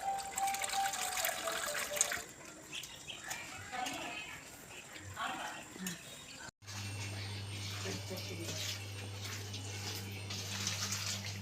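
Prawns rinsed in a vessel under running tap water for prawn biryani, gushing and splashing water close by, followed after a short break by a steady humming tone.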